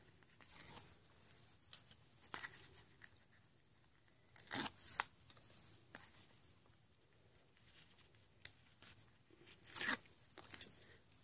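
Paper pieces from a card-making project are torn off by hand, giving faint intermittent ripping and crinkling sounds scattered through a quiet room, close by and soft.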